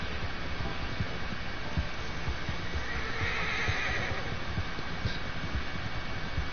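A horse in the video game Red Dead Redemption 2 gives a whinny over a low bed of game ambience and soft hoof clops.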